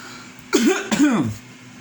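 A preacher clears his throat twice in quick succession, two short rasping bursts close to the microphone over a faint background hum.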